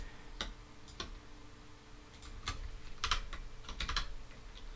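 Clicks from a new computer keyboard tap out in irregular bursts, close and fairly quiet, with short pauses between clusters of keystrokes.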